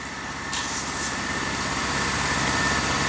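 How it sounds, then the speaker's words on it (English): An air compressor runs steadily while inflating a dump truck tire, a constant motor drone with a hissing air stream and a couple of brief higher hiss bursts near the start. "He using the air compressor."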